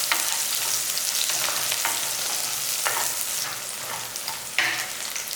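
Green chilies and peppercorns sauté in a hot pan for a Tamil fish curry, giving a steady close sizzle with soft stirring scrapes throughout and one brief louder burst near the end.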